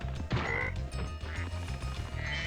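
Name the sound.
frog enemies croaking in video game Spyro 2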